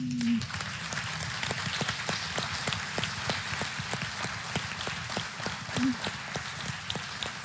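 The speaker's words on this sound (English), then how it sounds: "I want to give the biggest round of applause to Gail" Dense, steady applause from a conference audience honoring the event's organizer, even and moderately distant, continuing without pause and with no clear voices.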